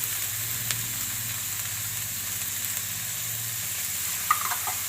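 Sprouted moth beans fry in hot oil with a steady, even sizzle and hiss, close by and without speech, broken by a single light clink near the end.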